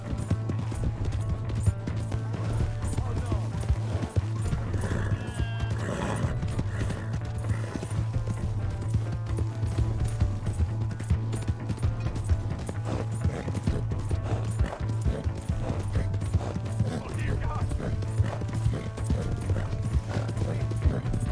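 Horse hooves galloping in the Red Dead Redemption 2 video game drum in a fast, steady clip-clop rhythm throughout, with a low rumble beneath and faint game sounds and scattered voices over it.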